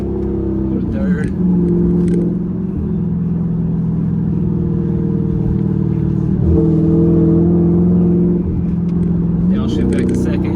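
A Dodge Charger's engine hums steadily from inside the cabin, its pitch dipping and rising several times as the driver shifts gears. A voice talks over the engine throughout.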